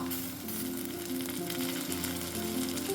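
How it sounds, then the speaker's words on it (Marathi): Chopped tomato added to onions frying in a pan on a gas stove for a methi dal recipe, a steady loud sizzle with a light crackle throughout. "कांदा आपला चांगला कोंबलेला आहे आता ह्यामध्ये मी घालत आहे हा टोमॅटो"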